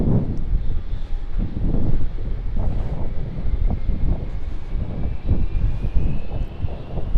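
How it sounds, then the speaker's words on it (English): A Qantas Boeing 737-800 arriving from Wellington lands on runway 27 at Melbourne Airport, its engines a broad low roar mixed with gusty wind buffeting the microphone, loud and sustained throughout. "Got a Qantas 737 arriving from Wellington, just coming in, runway 27."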